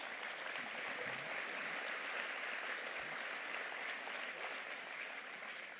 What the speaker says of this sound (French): Merci à eux, on peut les applaudir.